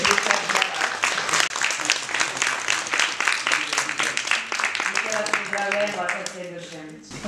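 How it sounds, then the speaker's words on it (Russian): Audience applause at an award ceremony in Zelenograd for the best investment and construction projects of 2012: sharp, rapid claps throughout, with a voice and tonal sounds rising over the clapping toward the end. "Ваши аплодисменты и, конечно, поздравления."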